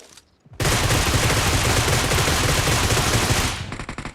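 Dense, loud burst of rapid automatic gunfire in the video game PUBG, a continuous roaring volley lasting about three seconds before cutting off abruptly.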